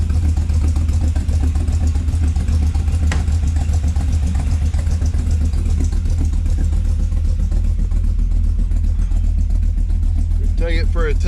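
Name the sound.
car engine running on a lift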